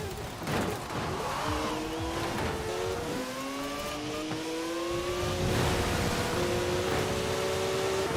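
A racing car in the Forza Horizon 4 video game accelerates hard on wet roads, its engine climbing in pitch through repeated gear shifts, loud and close with other cars audible.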